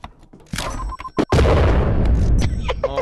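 A small explosion in a video game erupts as a loud, close boom with a rumbling burst of noise, preceded by sharp clicks and pops and trailing into crackling debris.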